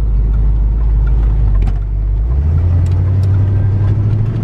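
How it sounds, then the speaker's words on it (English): A 1979 Pontiac Firebird Trans Am with a healthy V8 runs steadily while driving, a loud continuous low engine rumble that shifts upward in pitch partway through as the car picks up speed, with no talk over it. "This is super healthy motor."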